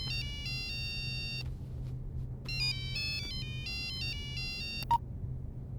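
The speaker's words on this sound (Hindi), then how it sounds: "तेरे फोन की घंटी।" A mobile phone rings with a bright electronic melody of repeated tonal phrases in two bursts, loud and close, with a brief pause between them and no talking.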